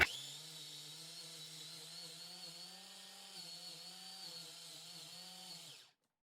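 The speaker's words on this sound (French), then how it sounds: "Céleri, mon persil et ma coriandre dans mon robot que je suis en train d'hacher." Food processor running while chopping celery, parsley and coriander, a steady whirring motor drone with slight pitch wobble, lasting several seconds before cutting off abruptly, moderately close and alone.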